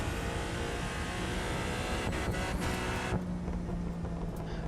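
A car engine in the game The Crew 2 roars loudly and steadily, a dense continuous rumble that shifts slightly in tone partway through, as if changing gear.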